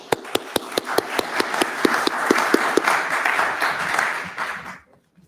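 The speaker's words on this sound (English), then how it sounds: "A round of applause for the senator." Audience applause for a senator at a congressional hearing on high-performance computing starts as a few sharp, spaced claps. It thickens into a moderate round of clapping, then fades out after about five seconds.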